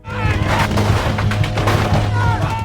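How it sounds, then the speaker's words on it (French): Gunfire in a bloody shootout, dense rapid shots and booms crackling continuously, loud and close throughout. "une fusillade sanglante s'ensuit."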